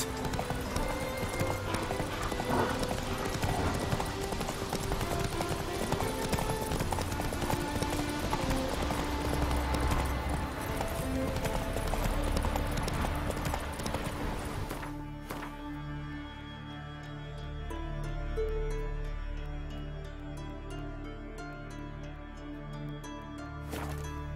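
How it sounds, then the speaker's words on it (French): Horse galloping in The Witcher 3, a steady rapid clip-clop of hooves under dense game music and ambience, the hoofbeats continuing after the music drops away around the middle. "Au galop, Ablet."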